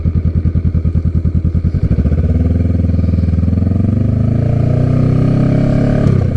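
Honda Rebel 500 motorcycle carrying a passenger through a neighborhood, its engine first thumping in a fast even pulse, then pulling into a smooth, loud steady drone.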